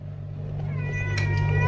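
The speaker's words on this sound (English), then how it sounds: "I can hear the cat as well." A cat meows close by, one drawn-out rising call over low background hum, heard on its own without talk.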